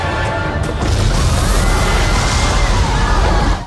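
A grenade explodes in the water among a group of Talokanians in Black Panther: Wakanda Forever, a loud, dense crashing roar that erupts suddenly and holds at full force for about three seconds before cutting off.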